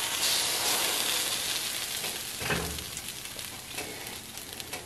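Slices of egg-soaked French toast fry on a skillet with a steady, fairly loud sizzle and hiss, broken by a brief thump and scrape midway as the pan is handled.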